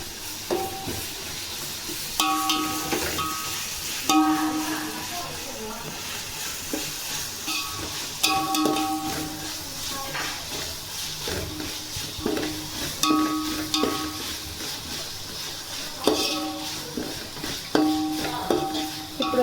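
Ginger garlic paste frying in a pan for coconut rice, a steady loud sizzle and hiss with periodic stirring scrapes and clinks, no talk.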